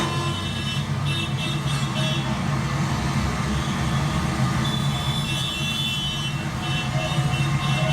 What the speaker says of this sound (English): There's some loud traffic noise behind me.